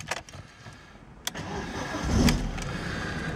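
A car engine cranks and catches near the end, rising into a steady idle; close, fairly loud, with a few clicks and thumps before the start and no talking.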